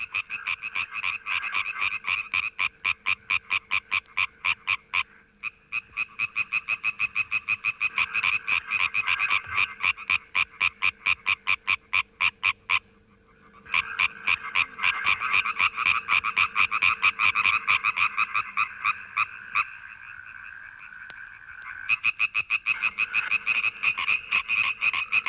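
Frogs and toads croak at night in a loud, dense chorus of rapid, regular pulsing calls that runs almost continuously, with a few brief pauses.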